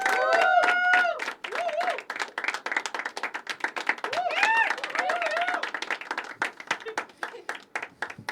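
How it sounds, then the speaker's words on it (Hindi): Scattered audience clapping greets a performer at a poetry open mic at The Habitat in Pune, with distinct individual claps under close, animated talk and laughter. "जोरदार तालियां फॉर तुषार"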